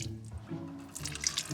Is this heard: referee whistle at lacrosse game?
no